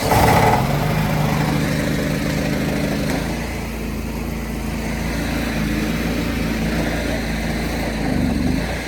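A hot water pressure washer's small engine, started with a key after the choke is pulled, runs with a steady, loud, buzzing drone and a slight surge near the end, with no talk.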